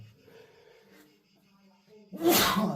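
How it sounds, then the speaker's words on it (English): A single loud, close sneeze bursts out at the end after a short stretch of soft, quiet breathing sounds. "Sorry for sneezing."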